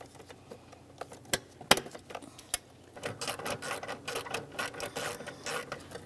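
A ratchet tightens EGR bolts on a 2002-2005 Ford Explorer during intake manifold work: faint scattered clicks, then a quick run of close, rhythmic ratcheting clicks, alone with no talk.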